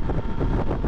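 Wind turbulence buffeting a microphone on a 2013 Honda XRE300 motorcycle riding close behind a truck on the road, a loud continuous rushing roar with uneven gusting.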